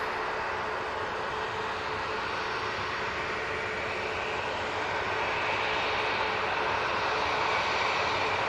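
An easyJet airliner departs Manchester Airport, a distant, steady jet roar that grows slightly louder toward the end, heard alone without talk.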